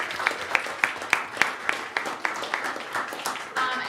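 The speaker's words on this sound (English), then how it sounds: "Round of applause." Audience applause at a park board meeting after a group of young dancers is introduced, a brief burst of clapping from a modest crowd with distinct individual claps fading over a few seconds.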